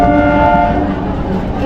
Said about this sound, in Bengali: এই যে আমাদের ট্রেন নামখানার দিকে চলে গেল